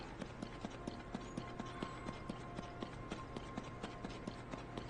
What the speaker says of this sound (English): I think we can bring our horse a little closer.